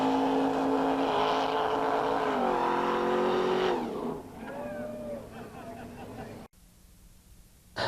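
Show car engine revving at a vintage motorsports festival, several loud rising and falling revs up close that settle and cut off, with a crowd talking underneath.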